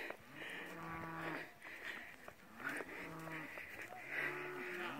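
Cattle moo repeatedly at night as escaped cows and a calf are rounded up on a rural farm, with long loud calls and short gaps between them. Some of the calls may be an adult cow calling for its calf.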